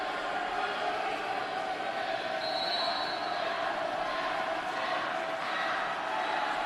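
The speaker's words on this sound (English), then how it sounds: "Crowd is loud." A crowd at a women's college volleyball match between Oakland City University and Brescia University makes a steady, noisy roar, with a whistle sounding briefly partway through.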